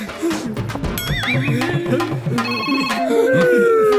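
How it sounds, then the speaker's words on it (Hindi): A telephone rings in a movie scene with a bright, warbling ringtone. It repeats over busy, layered background sound and plays loud and close. "फोन उठा, फोन उठा।"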